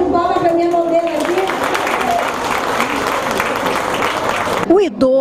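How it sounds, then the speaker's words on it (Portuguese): A sustained burst of audience applause at a health talk in a community venue, loud and dense for several seconds, then cutting off abruptly as a voice begins. "uma salva de palmas para minha modelo aqui"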